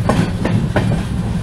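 A Konkan Railway train runs along the tracks with a loud, close rumble, and a few sharp rhythmic wheel clacks punctuate the steady roar.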